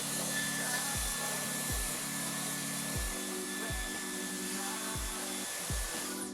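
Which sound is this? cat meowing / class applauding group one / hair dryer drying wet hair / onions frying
hair dryer drying wet hair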